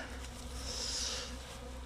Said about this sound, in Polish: Słuchajcie, dużo pszczół lata dookoła.